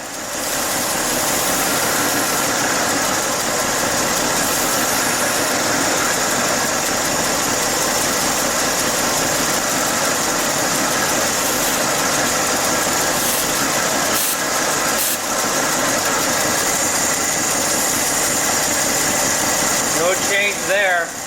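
A 1967 Chevy C10 truck engine idles loudly and roughly nearby from a vacuum leak, a steady, continuous rumble with a faint mechanical hiss running through it.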